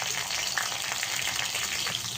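Green chillies sizzling in hot oil with tempering spices for Telangana-style mango rice, a dense, continuous crackle close up and fairly even in loudness.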